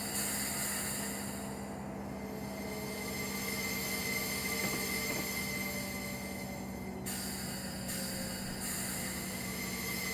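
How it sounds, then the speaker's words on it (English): An old train in Train Sim Classic runs steadily along the rails with a continuous rumble, tonal hum and faint wheel squeal throughout. "Sounds are pretty good on this old train,"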